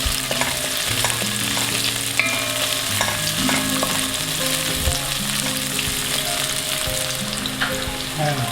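Onions sizzle and fry in a pan for chicken feet adobo, a loud continuous crackle heard up close, with occasional clinks of a utensil stirring and no talking.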